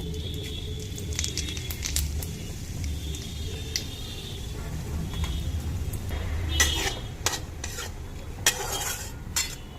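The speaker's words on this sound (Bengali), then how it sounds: "এবারে ওই তেলে একটু হিং ফোড়ন দিয়ে দেবো আর একটু গোটা জিরে" Asafoetida and whole cumin crackle and sizzle in hot oil, a close steady hiss with occasional sharp pops and spoon scrapes against the pan.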